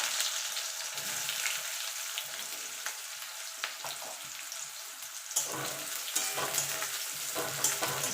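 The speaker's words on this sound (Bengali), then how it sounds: "পেঁয়াজটা একটুখানি ভাজা ভাজা করে নেবো" Chopped onions fry in oil with a soft, steady sizzle, broken by scraping and stirring sounds and a few louder crackles toward the end.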